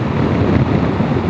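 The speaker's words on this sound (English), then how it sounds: "Bloody hell, that is windy around the old lid." Wind roaring around a rider's helmet on a Honda Africa Twin motorcycle in top gear, a dense steady low buffeting rush, loud and close, with no speech.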